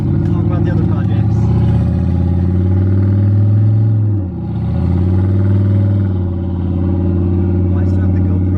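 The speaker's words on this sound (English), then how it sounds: "I'm going to put it back on setting A, and then we're going to do burnout" A turbocharged LS-powered Envoy holds a loud, steady engine roar at high revs during a burnout, with the pitch briefly dipping midway before climbing back to a sustained drone.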